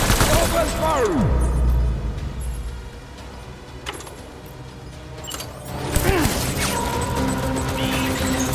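Gunfire and combat noise in the video game Death Stranding, with sharp bursts and crashing impacts over a steady rumble, and shouted voices heard in the mix.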